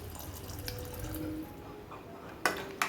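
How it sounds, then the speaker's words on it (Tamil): Water is poured into a pot of plain sambar to thin it, a soft, close trickle and splash, followed by two sharp brief clinks near the end, with no talking. "நம்மளுக்கு உங்களுக்கு எவ்வளோ திக்னஸ் வேணுமோ அந்த அளவுக்கு தண்ணி விட்டு நம்ம அட்ஜஸ்ட் பண்ணிக்கலாம்"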